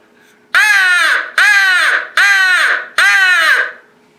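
Four loud, harsh crow caws from a Primos crow call, each a drawn-out raspy blast about a second long with short gaps between.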